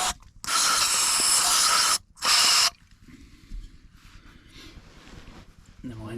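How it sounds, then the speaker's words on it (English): Carb cleaner sprayed onto the carburetor of a 2001 Yamaha 40hp two-stroke outboard, two loud close hissing bursts, a long one then a short one, followed by quieter handling noises and a brief voice. "I'll just do a generous bit of carb cleaner"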